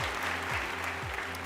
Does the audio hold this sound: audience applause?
yes